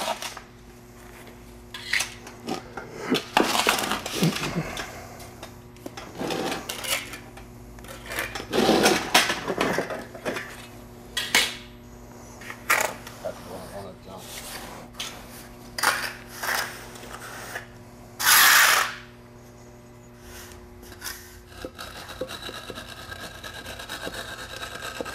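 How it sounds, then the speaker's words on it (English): A steel trowel spreads Res-Clad A3000 resin floor coating across a prepared surface in irregular scraping strokes and rubs, moderately loud, over a low steady background hum, with no talk. "the res-clad A3000 is then applied to that surface using a straight edge or a steel trowel."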